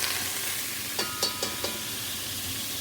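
Seasoned chicken going into a warmed pot for Caribbean-style fried rice, giving a steady close sizzle with a few brief sharp crackles and spits bunched near the middle.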